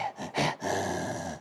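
A voice imitates the tired grunting of reindeer after a long run, three short breathy rasping bursts followed by a longer strained drawn-out grunt, close and alone.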